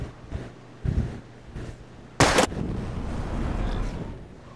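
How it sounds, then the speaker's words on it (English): A single sharp gunshot cracks out in the Life is Strange video game as a bottle is targeted, preceded by a few soft thuds and followed by a lingering low rumble of ambience. "We're gonna shoot all these bottles without wasting a single bullet."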